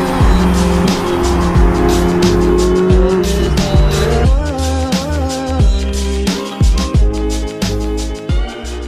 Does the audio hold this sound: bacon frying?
no